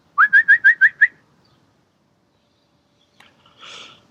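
A quick run of six clear, rising peeping chirps from a young turkey, close by, followed by silence and then a faint rustle.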